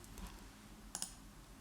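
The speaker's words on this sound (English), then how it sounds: "So clicking OK." A computer mouse clicking an OK button, two faint, quick clicks close together amid quiet room hiss.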